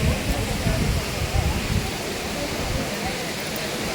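Rain falls outdoors near a waterfall at a hilltop temple, a steady broadband wash of water noise that is heavier at first and then eases slightly.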